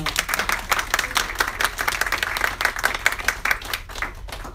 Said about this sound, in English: please give a big round of applause to Dr. Rich Castellano